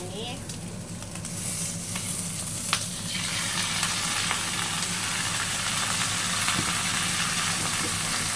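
Frog frying in hot oil with kaffir lime leaves, a loud, steady sizzle and hiss that swells after a few seconds, with occasional stirring clicks and a faint voice underneath.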